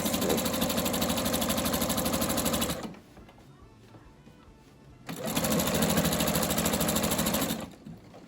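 A sewing machine stitches in the ditch along a seam of a panel baby quilt, running in two loud, steady, rapid bursts split by a short pause, close up with no talking.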